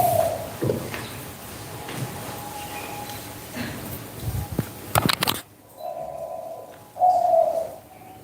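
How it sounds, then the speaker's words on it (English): A pigeon or dove coos softly at mid distance outdoors during a meditation gathering in Bodhgaya, with a few low coos at the start and end, over a quiet murmur of background noise and faint thumps. "Also listen to the bird's sound and focus."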